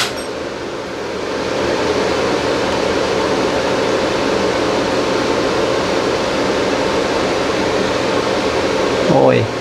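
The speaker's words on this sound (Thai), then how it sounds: "เปิดแอร์ใหม่นะครับ" An air conditioner powered from a repaired inverter carrying a 4,400-watt load, giving a steady broadband whoosh of fan and airflow that swells up after a quiet start and holds loud, with a small clink near the end.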